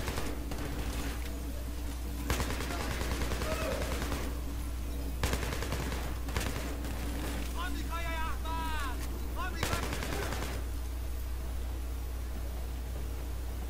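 Gunfire rattles through a Battlefield 3 match: repeated loud bursts of automatic fire and sharp single shots crack over constant background noise, and a voice is heard faintly midway.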